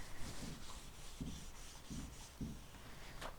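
A cloth wipes after-wash cleaner across the surfaces of a stripped wooden dresser, making faint, rhythmic rubbing and scrubbing strokes about every half second with no talking.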